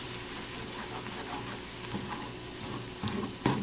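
A pot of liver soup for a baby boils on the stove, giving a steady bubbling, sizzling hiss with a brief louder clatter near the end.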